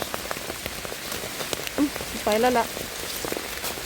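Rain falls steadily in a forest during mushroom picking, a soft continuous patter of drops on leaves and ground, broken by a couple of brief tonal calls partway through. A voice speaks briefly.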